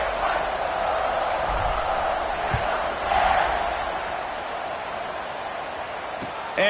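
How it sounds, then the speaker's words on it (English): A stadium crowd at a college football game keeps up a continuous distant buzz of voices after a score, broad and steady, with a slight swell midway. "this crowd is buzzing after that last score"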